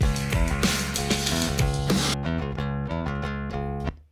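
A picked five-string jazz bass with a Fender high mass bridge plays a steady run of distinct, punchy notes with a bright attack, continuing evenly for a few seconds before stopping.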